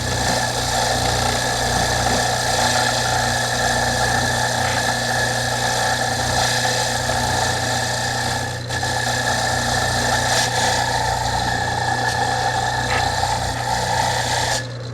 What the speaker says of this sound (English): we'll get the old Loctite off, take a wire wheel to it